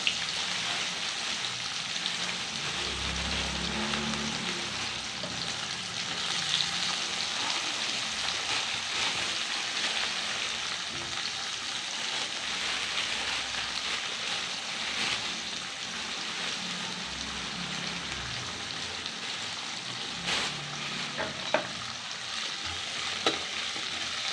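Four large chopped onions sizzle and hiss steadily in a hot pan while being stirred, with occasional scraping and soft knocks of the utensil.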